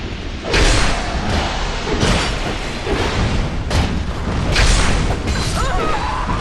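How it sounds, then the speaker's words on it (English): Fiery explosions burst in Dark Souls II, a series of loud booming blasts with sharp onsets and rumbling tails, repeating irregularly over a dense, continuous din. "the exploding fire from behind me, too"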